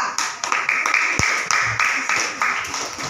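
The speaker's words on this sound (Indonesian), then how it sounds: "tepuk tangan untuk kelompok 2" Classroom students clapping for a group, a few seconds of distinct, uneven hand claps from a small group, close and fairly loud, with one sharp knock in the middle.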